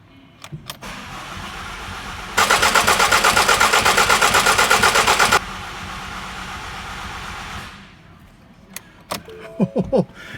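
A Ford Mondeo Mk5 2-litre diesel is cranked after a timing chain job: a loud, steady rhythmic starter whir runs for about three seconds and then stops, followed by quiet background noise and a few clicks and knocks.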